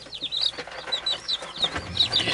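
A young chicken chick peeps near a water dish in a chicken-raising setup, a run of repeated high chirps in quick bursts, close and clear, with no speech over it.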